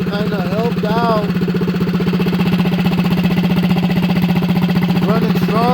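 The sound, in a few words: mini bike motor running with shaved exhaust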